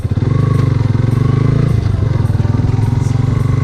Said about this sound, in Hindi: मैं बाइक नहीं चला रहा हूँ, मेरा दोस्त बाइक चला रहा है।